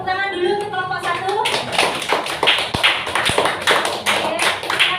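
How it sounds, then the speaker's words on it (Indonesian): A classroom group of students claps for a presenting group, with dense, lively applause and scattered voices throughout. "tepuk tangan dulu untuk kelompok 1"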